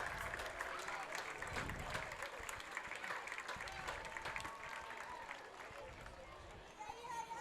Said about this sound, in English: let's give both of these teams a round of applause